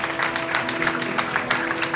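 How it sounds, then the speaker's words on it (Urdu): A church congregation at a Pentecost Sunday service claps loudly, a dense, steady burst of applause filling the room with no voices standing out. "پشاور سے زوردار تالیاں ان کے لیے بجائیں"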